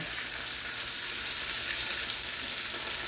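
About a tablespoon of tomato paste fries in a hot pan, giving a loud, steady, close sizzle with no talking.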